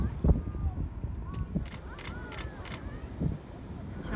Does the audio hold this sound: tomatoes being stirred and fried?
no